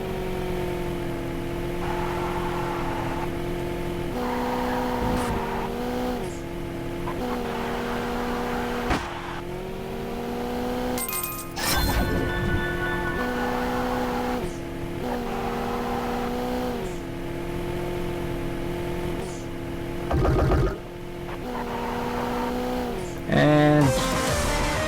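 Racing car engines from the Horizon Chase arcade racing game whine and rise in pitch as gears shift, a steady loud electronic roar with occasional crashes and bumps, mixed with game music, with no talking.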